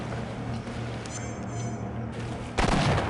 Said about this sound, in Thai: ปืนลั่นปืนลั่น